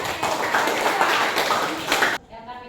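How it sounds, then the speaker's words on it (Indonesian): Students break into a burst of clapping in a classroom, steady dense hand claps lasting about two seconds before cutting off abruptly into quiet room tone. "Beri tepuk tangan untuk Surya."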